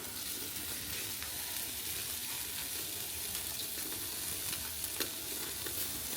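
A porterhouse steak sears over a hot charcoal fat fire on a BBQ grill, giving a steady, hissing sizzle that carries on without a break and stays fairly quiet, close up, with no voices over it.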